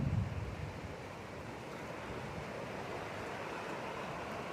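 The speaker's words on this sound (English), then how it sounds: "So, you can see how aggressive this water is." Aggressive rushing floodwater during a California rainstorm in Modesto roars as a dense, continuous wash of noise, loud and steady with a slightly stronger burst at the start, and no voices.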